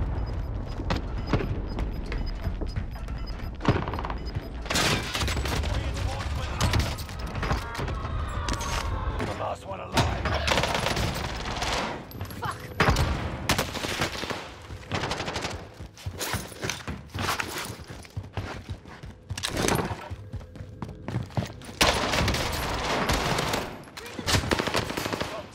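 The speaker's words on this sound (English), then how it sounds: "There's just constant explosions going on." Dense, continuous gunfire and explosions in the Warzone video game, with rapid machine-gun bursts and heavy booms packed together throughout, loud and close.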